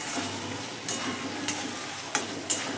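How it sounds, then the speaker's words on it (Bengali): Boiled potatoes being stir-fried with spice masala in a pan for raw banana kofta curry, a steady low sizzle with a few sharp scraping stirs spaced across the moment. "খুব ভালো করে মশলার সঙ্গে কিন্তু আলুটাও আমি কষিয়ে নিচ্ছি।"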